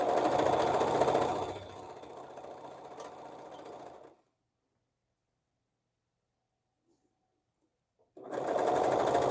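Sewing machine stitching gathered fabric: a steady loud whirring hum for about four seconds that slows, then silence, then the motor runs again near the end.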